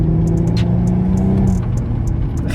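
A car's engine rumbles steadily at low pitch while driving, its drone rising slightly as it accelerates, with faint ticks and road noise layered on top throughout.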